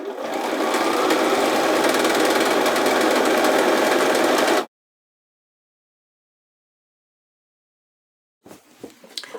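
Sewing machine stitching the inner leg seam of a pair of pants, a loud steady mechanical whir lasting several seconds, then stopping abruptly, followed by silence and faint handling of fabric.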